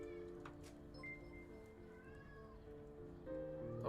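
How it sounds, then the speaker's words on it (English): Stray cats meow repeatedly over a steady background hum at a Maori wood carving session, with several rising and falling calls close by. "Sorry we got a bit more meowing than usual."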